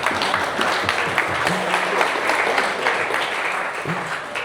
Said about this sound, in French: donc on peut applaudir l'IA, s'il vous plaît